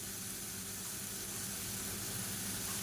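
Garlic and shallots sautéing with asafoetida in a pan over a medium flame for rasam, giving a steady, even sizzling hiss without pause and no talking.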